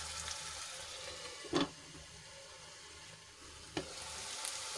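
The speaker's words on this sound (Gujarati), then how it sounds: "મિક્સ કરીને એને ઢાંકીને આપણે સરસ રીતે 2 થી 3 મિનિટ સુધી ચડવા દઈશું." Onion and tomato puree cooks in a covered pan, a faint steady sizzle and simmer with two brief louder clatters, no voices.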